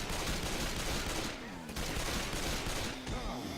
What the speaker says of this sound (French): Les fusils à pompe.